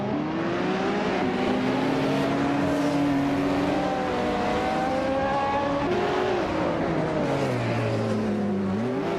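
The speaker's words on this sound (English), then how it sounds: "Bot Aerotique is starting right on the front row with that classic 1996 Ozella P20 BMW A20" Racing video game cars launching at the start of a race, among them a 1996 Ozella P20 BMW A20, with loud overlapping engine whines rising and shifting in pitch as several cars accelerate, continuous and without talking.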